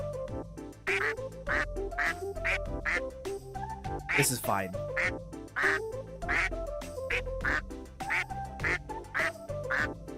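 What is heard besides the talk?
ducks quacking sound effect in Monster Prom video game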